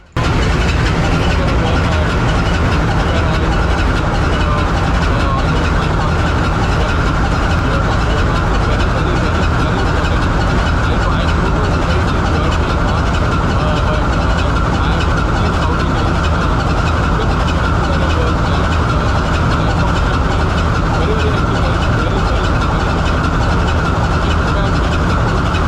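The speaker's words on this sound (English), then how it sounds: "let you guys get a feel on how the main engine sounds when it's running." The main engine of a bulk carrier runs in its engine room, a loud, dense, unbroken mechanical roar with a steady low hum, constant throughout and filling the space.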